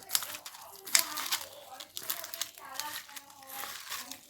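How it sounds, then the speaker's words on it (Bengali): Mushroom pakora batter mixed by hand, giving close, squelchy crinkling and slapping sounds in irregular bursts, with faint background voices. "এটাকে আমরা ভালো করে মেখে নেব।"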